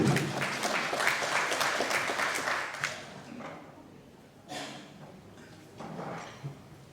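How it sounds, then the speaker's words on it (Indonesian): An audience at a work-plan departmental presentation claps for a few seconds, loud at first and then thinning into scattered claps and faint rustling. "Aplaus buat Pak Luki"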